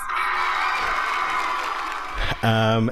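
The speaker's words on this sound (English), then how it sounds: "And a round of applause." Live audience at an interview event with an Emmy-winning reporter cheers and whoops in a loud, sustained wave of crowd noise. It cuts off abruptly at the end into a sharp, tonal electronic tone.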